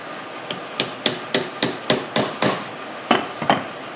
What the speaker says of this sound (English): You can get it even with just a hammer and chisel.